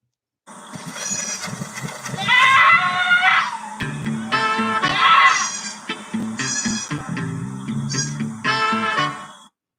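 A goat lets out several loud, drawn-out bleating screams, each call wavering and harsh, repeating in close succession over a low background hum.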